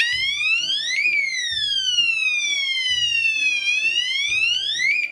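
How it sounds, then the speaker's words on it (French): A cheap novelty gadget blares a police siren, its loud electronic wail sweeping up and down in repeated cycles over a pulsing low buzz, continuous and close. "Vous avez une sirène de police."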